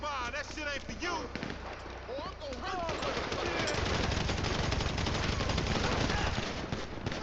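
Automatic gunfire rattles in the video game GTA 5, with rapid bursts building into a dense, loud fusillade in the second half, while voices talk over the start.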